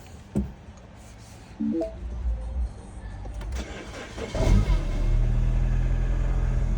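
A 2013 Mini Cooper with a 1.6 petrol engine and an old battery, left standing for several days, cranks briefly, catches and settles into a steady close idle rumble, with no talk.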